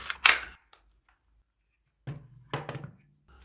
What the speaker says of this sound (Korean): 탄창 멈치를 누르고 탄창을 빼보면